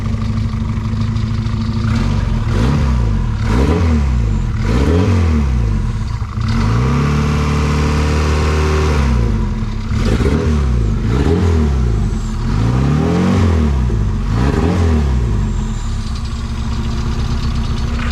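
A Japanese classic car engine with an open downpipe revs repeatedly from a rough idle, loud and close. The rising and falling blips come in a fairly regular rhythm with a longer held rev partway through.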